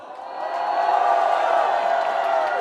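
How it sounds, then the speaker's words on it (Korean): A crowd at a Korean political rally bursts into steady applause and cheering after a speech by lawmaker Na Kyung-won, a dense, sustained roar of clapping and voices. "여러분 큰 박수 부탁드리겠습니다."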